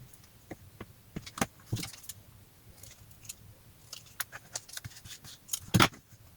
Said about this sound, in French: j'ai découpé les 5 bandelettes en forme de